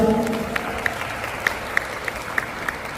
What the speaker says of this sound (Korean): 사회자 조및 협 여러분 축복의 박수 부탁드리겠습니다.